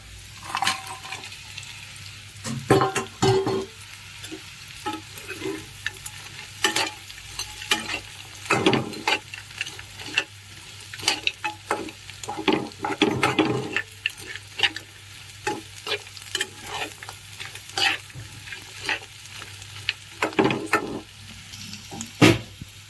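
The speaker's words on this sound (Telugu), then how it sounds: "మనం అందులోకి మష్రూమ్ పీసెస్ని యాడ్ చేసుకుని కలిపేసుకోవాలి" Mushroom pieces fry in a pan for crispy butter chilli mushroom, a busy close sizzle with frequent rattling scrapes and clacks from steady stirring over about twenty seconds.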